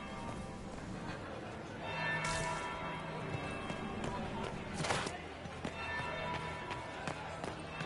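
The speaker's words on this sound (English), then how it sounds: "That's the bell." Church bell tolls ring out inside the fantasy game Dragon Age Inquisition, a sustained metallic ringing layered over busy in-game ambience and footsteps, moderately loud throughout.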